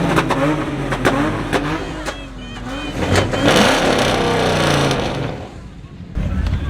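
Engine revving from trucks at a busy car meet, loud and rising in bursts over steady crowd noise, with people talking throughout and a brief lull near the end.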